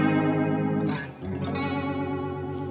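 Guitar run through a Walrus Audio Fundamental Chorus pedal with depth turned high gives a sustained, warbling, watery wash of chorused tone, with one dip and swirl midway, alone and close.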